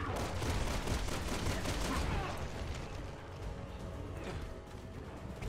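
Double pistol gunfire in Resident Evil 6, a dense burst of rapid overlapping shots and impacts, loud and continuous at first and then thinning out, with game sounds mixed in.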